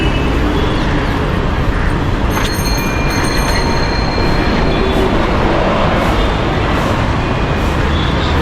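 A Mumbai metro train runs loud and close, with a continuous rumbling roll of wheels on rails and faint high squeals midway.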